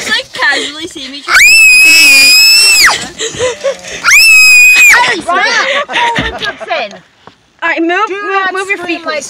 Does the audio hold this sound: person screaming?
yes